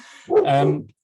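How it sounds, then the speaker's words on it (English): A single dog bark, fairly close and loud, standing alone against a quiet background. "you might hear a dog barking in the background every now and then"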